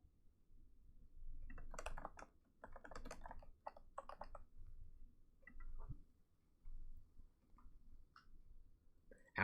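Someone types a name on a computer keyboard in quick clustered bursts of clicking keystrokes with short pauses between them, near and fairly quiet over a faint room hum.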